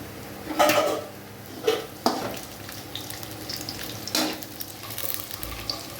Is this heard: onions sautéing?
yes